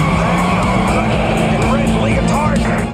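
A truck barrels toward riders in the Spider-Man theme park dark ride, with a loud, close roar of engine and screeching tires mixed with rumbling effects, steady for the whole span.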